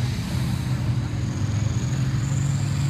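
An AC210 tractor engine runs steadily up close on a farm, a loud low droning rumble that rises slightly in pitch as the revs climb, with no other sounds standing out.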